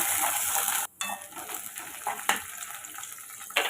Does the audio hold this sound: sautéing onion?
yes